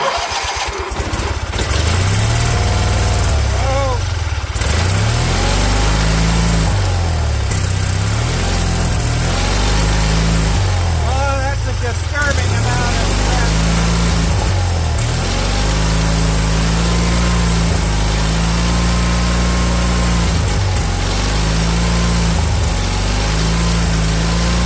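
A Kohler KT17 engine on a Bolens 1700H garden tractor cranks and fires, then runs loud and close with an uneven, surging idle that rises and falls repeatedly throughout.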